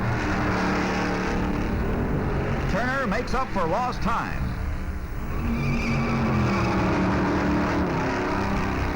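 Stock cars race around the Darlington track during the Southern 500, engines roaring steadily throughout as a commentator talks over the continuous loud motor noise.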